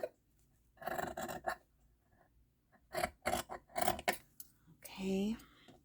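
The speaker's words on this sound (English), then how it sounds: "So I'm just going to cut kind of a narrow piece off this end." Scissors snip through a narrow strip cut from the end of a paper envelope, a few quick close bursts of cutting, then a pause and another run of snips, with a short voiced sound near the end.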